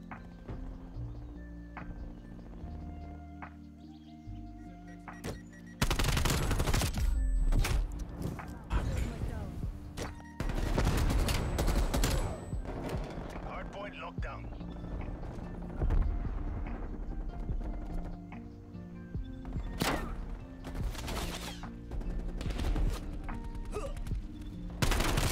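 Call of Duty Hardpoint match gunfire: bursts of shots and thuds over a steady game soundtrack, loud sections starting around six seconds and recurring, with a player talking throughout.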